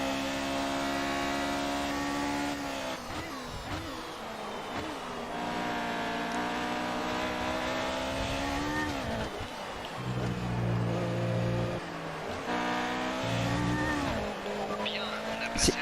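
Formula 1 car engine in the video game F1 2018, a continuous high revving whine rising and falling through gear changes, with lower tones near the end, loud and without pauses.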